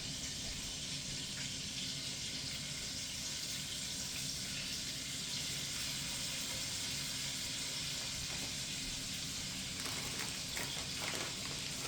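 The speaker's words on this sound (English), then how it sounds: "And let's throw them in the frying pan." Six bratwursts sizzle in a frying pan, giving a steady, crackling hiss that keeps going for about twelve seconds with small pops near the end. The frying is close and constant, with no talking.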